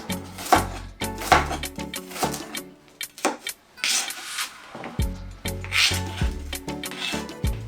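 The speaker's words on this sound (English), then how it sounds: "Let me cut it into these shapes. Onions." Kitchen knife chopping onion on a board while making a Ghanaian dish, giving a run of close, crisp cuts in uneven bursts with short pauses and no one speaking.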